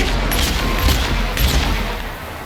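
Several heavy booming cannon shots ring out in quick bursts over a loud rumbling background in the video game The Outer Worlds, with no talking.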